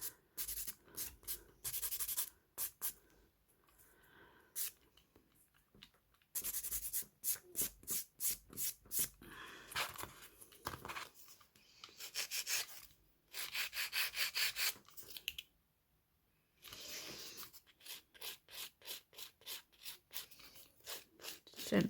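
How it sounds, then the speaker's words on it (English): Nail buffer lightly buffing fingernails, close rapid rhythmic rubbing strokes in repeated bursts with short pauses between passes, fairly quiet and alone. "just with my buffer, I'm just going to lightly buff, because that is literally all it needs"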